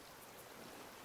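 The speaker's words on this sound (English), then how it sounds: "It's raining underwater." Steady broadband hiss of rain in the survival game Raft, falling even while the player is underwater, a continuous soft wash with no voices and no distinct drops standing out.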